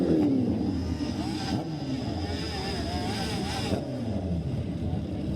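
Motorcycles from a riding club rumble and rev at a nighttime Christmas parade, a steady loud engine drone with rising pitch sweeps, crowd noise and a commentator's voice mixed in.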